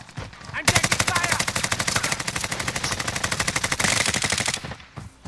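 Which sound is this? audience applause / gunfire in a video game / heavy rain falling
gunfire in a video game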